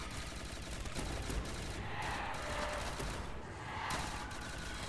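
Rapid automatic gunfire in MW3 Remastered custom zombies while fighting tigers, dense continuous bursts of close loud shots with brief pauses throughout.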